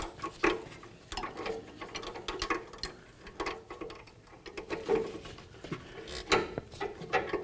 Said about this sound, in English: we'll turn the nut so it's bottomed out with the wrench